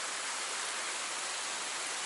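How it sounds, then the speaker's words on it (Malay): A small waterfall beside a riverside campsite roars as a steady, dense rush of falling water, close and continuous with no voices. "Itulah mini air terjun."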